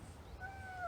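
A single cat meow, a short rising-then-falling cry, sounds alone over a faint low background hum, fairly quiet and brief.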